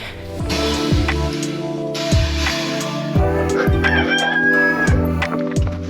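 A rooster crows near the coop on a small farm in the morning, a series of loud, close, strained calls repeating about once a second with faint background clucking.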